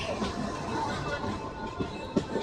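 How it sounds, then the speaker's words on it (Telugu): A MEMU passenger train on the Hubli–Guntakal line pulls out of Kusugal station, giving a steady, dense rumble with faint rail clatter and a couple of sharper knocks near the end. "కూసుగల్ నుంచి మన ట్రైన్ బయలుదేరింది."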